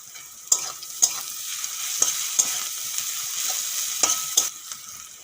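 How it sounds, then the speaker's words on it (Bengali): Ridge gourd peels fry in a pan with onions, a soft steady sizzle under repeated sharp scrapes and clacks of a spatula stirring, about six or seven strokes spread across the stretch. "কুশির ছিলকা দেওয়ার পরে দু মিনিটের মতন ভেজে নেবেন"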